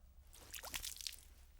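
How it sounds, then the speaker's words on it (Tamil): Water poured onto a washable, waterproof, non-sticky cloth, a brief close splash and patter lasting about a second, quiet and with no talking. "நான் இப்போ இந்த தண்ணியை இந்த பேன் பிட்டில் ஊற்ற போகிறேன்"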